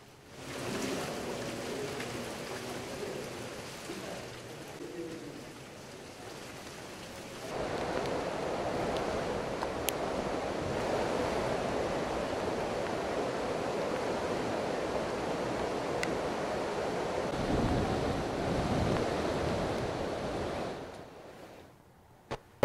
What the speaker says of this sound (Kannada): 3 ಮತ್ತು 5ನೇ ಗೇಟ್ನ ಓಪನ್ ಮಾಡಿ ನೀರು ಬಿಡುಗಡೆ ಮಾಡಲಾಗ್ತದೆ